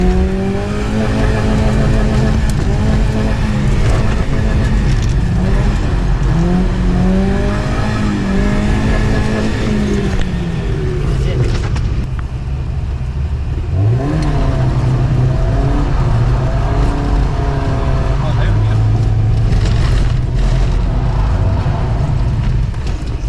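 A BMW 318i E36 revs hard through repeated donuts, its engine pitch sweeping up and down in loud, sustained wails with a brief dip midway before climbing again.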